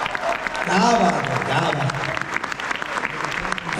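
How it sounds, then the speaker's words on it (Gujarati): Applause from a folk dayro audience in Melbourne, a dense steady clatter of clapping filling the room, with someone speaking over it and cheering the performers. "વધાવો, તાળીઓથી વધાવો."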